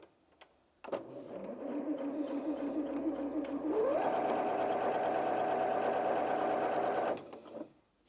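A Janome M50 QDC sewing machine stitches through two layers of thick fabric with a lengthened stitch, a close, loud continuous motor whir that speeds up partway through and then holds steady before stopping.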